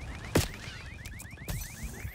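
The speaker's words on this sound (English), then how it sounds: "when they shoot down my chopper, what always happens is this alarm goes off and it never goes away" In Black Ops 6, a shot-down chopper sets off an alarm: a rapid, steady train of rising electronic beeps repeating continuously, with a couple of thuds and gameplay noise behind it.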